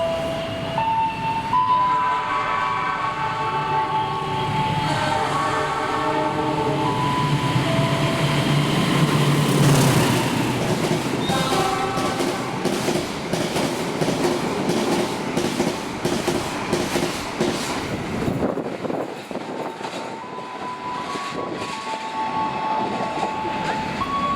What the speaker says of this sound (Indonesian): Jalur 4 melintas kereta api Gunung Jati